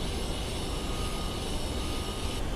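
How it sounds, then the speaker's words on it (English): Compressed air hisses steadily out of two holes in a block, a loud, unbroken broadband rush heard up close with no talking. "these two holes that are leaking air at this moment"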